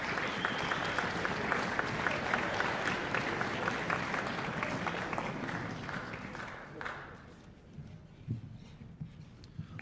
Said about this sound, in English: One more big round of applause for all the competitors that took place